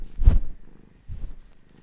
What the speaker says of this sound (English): Can you hear her purrs?